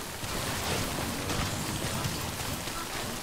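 Acid rain falls in the Death Stranding video game as a dense, steady, broadband hiss of rainfall, even and unbroken, with no voices over it.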